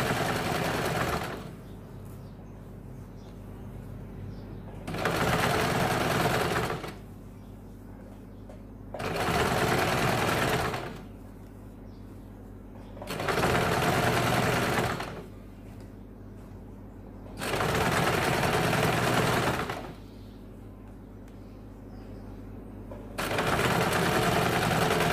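A sewing machine stitches the side seams of a blouse in loud, steady bursts of a few seconds each, about five runs separated by short quieter pauses.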